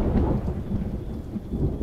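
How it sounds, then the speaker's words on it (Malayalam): Heavy rain pours continuously while low thunder rumbles through it, a dense, loud wash with no voices. "ഈ മഴ ഇങ്ങനെ തന്നെയാ."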